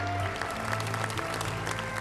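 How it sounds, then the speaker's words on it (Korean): Koreans living in China warmly applaud President Park Geun-hye at a meeting during her state visit, a brief, steady burst of many clapping hands with a low hum beneath. "제중 한국인들은 박 대통령을 뜨거운 박수로 맞이했다."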